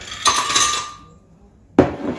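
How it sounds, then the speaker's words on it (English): Ice cubes tipped into a blender jar, a clattering rush of ice, a quiet pause, then a sharp second knock of cubes landing, close and loud with no voices. "I'm just going to chuck the ice in the blender"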